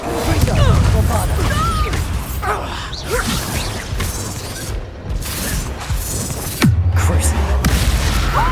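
Spell blasts in the Hogwarts Legacy video game, with whooshing casts and booming impacts that land in quick succession over a continuous layer of battle noise and game music, loud and close.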